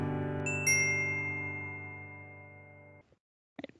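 A doorbell sounds a ding-dong, two chime notes close together, then one long ringing tone that slowly fades for about three seconds before a brief burst of other sound.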